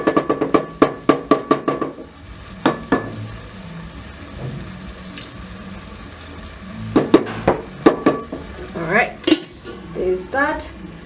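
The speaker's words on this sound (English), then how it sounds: "we're going to give the spices just a few more minutes to cook" Spices cook in a pot for a chicken gizzard stew, with a spoon clinking and scraping against the pot in bursts, a soft simmer beneath, and people talking between the stirring.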